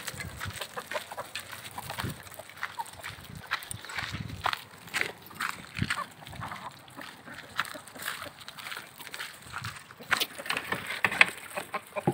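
Backyard hens moving about a coop, with soft scattered clucks, light footsteps and sloshing water being poured, quiet and close, faint voices now and then.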